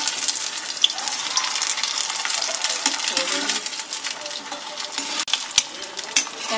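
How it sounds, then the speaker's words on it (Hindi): Papad made from leftover rice sizzle in hot oil, giving a steady, dense crackle and bubbling hiss with occasional sharper pops throughout. "ऐसे करके हमें जो सभी पापड़ है उन्हें फ्राई करना है।"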